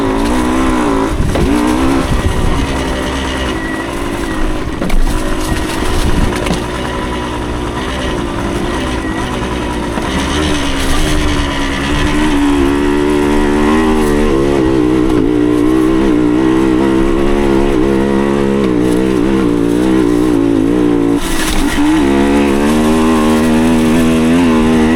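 A 1975 Suzuki TS125 Duster motorcycle ridden over rough terrain, its small engine droning loud and close with shifting pitch as the throttle opens and eases, and the rumble continuing the whole time without talk.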